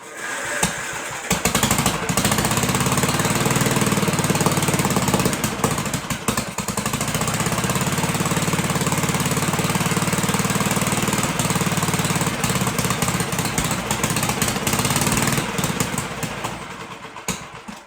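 A 1958 Gravely Model L tractor engine runs in a workshop, a loud, steady throbbing chug with rapid knocking pulses that holds for most of the stretch, briefly dipping before settling back into its rhythm.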